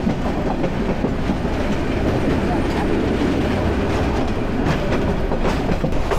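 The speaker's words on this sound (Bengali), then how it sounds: "এই যে আমাদের ট্রেন কার্ভ দিয়ে বের হয়ে যাচ্ছে চট্টগ্রাম রেলওয়ে স্টেশন থেকে" A train curving out of Chittagong railway station in Bangladesh, with people riding on the roof, gives a steady loud rumble with rhythmic wheel clatter that continues the whole time.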